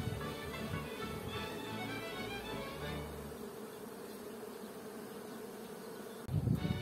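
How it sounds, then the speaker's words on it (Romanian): Honeybees flying around a hive while orienting, a dense steady buzzing hum of many insects at close range, continuous throughout with a brief louder bump near the end. "Albina zboară ca să-și ia orientarea."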